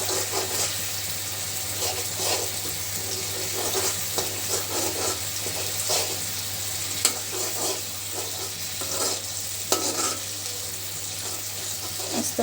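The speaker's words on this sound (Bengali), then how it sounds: "মশলাটা খুব ভালো করে কষিয়ে নেব।" Masala frying in oil in a pan for a home-cooked lunch curry, a steady close sizzle with scraping stir strokes and occasional clinks, a constant low hum beneath, no talking.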